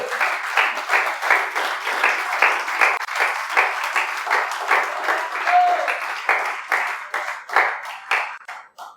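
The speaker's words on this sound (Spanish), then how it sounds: "Dele un aplauso al Señor." A church congregation claps together in a steady rhythmic beat, loud and even, during a worship service. The clapping keeps a regular pulse throughout and swells slightly toward the end.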